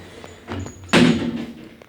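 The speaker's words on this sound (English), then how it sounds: "Doors closing." A lift's doors slide and bump shut in a Waitrose multi-storey car park in Southsea, Portsmouth, with a few light taps before one sharp close-up thud that fades quickly.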